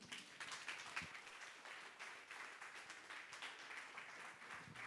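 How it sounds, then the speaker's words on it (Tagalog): A church congregation applauds a pastor's welcome with steady, continuous clapping that sounds faint and distant throughout, with no voices on top. "Malakas sa palakpak po na may kasamang ligaya mula sa puso."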